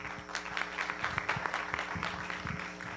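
Audience applause welcoming a doctor about to speak at a talk on disappearing glaciers on Mexico's volcanoes, fairly sparse and distinct claps from a modest group, steady throughout.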